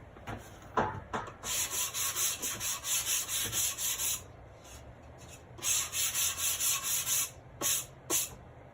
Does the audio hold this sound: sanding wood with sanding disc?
yes